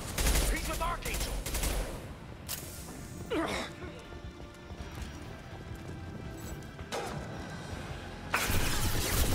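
Gunfire erupts in a Mass Effect 2 firefight on Omega, with bursts of shots and clattering impacts around shouted voices, plus a loud burst near the end.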